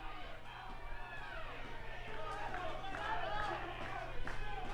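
A wrestling crowd at a Cleveland event gives off a steady hubbub of chatter and shouts. The murmur swells slightly over a few seconds, with a constant low hum running underneath.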